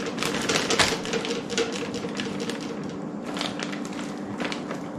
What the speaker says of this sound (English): Do you hear the plate